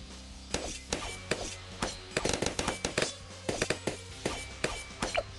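A quick series of sharp explosive pops and bangs from grenades in the Bloons TD 6 tower defense game, Medieval-themed challenge, irregular bursts layered over a steady game backdrop.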